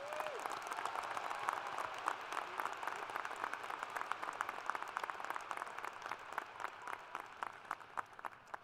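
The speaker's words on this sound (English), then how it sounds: "A round of applause for these outstanding students." Sustained applause from a commencement audience honoring graduating students at a fall university ceremony, dense steady clapping with sharp individual claps standing out, moderately distant and holding at an even level throughout.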